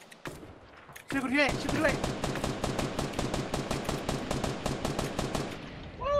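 Rapid bursts of close, loud automatic gunfire in a Fortnite match, sharp shots in fast rhythmic volleys for several seconds, with someone shouting briefly at the start.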